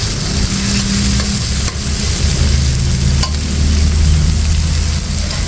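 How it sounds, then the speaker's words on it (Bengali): Okra with gram flour and egg stir-frying in a large pan over high heat, a loud steady sizzle with occasional scrapes of stirring, continuous throughout and without talk. "আর এদিকে কিন্তু নেড়ে ছেড়ে খুব সুন্দর করে একদম মুচমুচে করে ভেজে নিচ্ছি।"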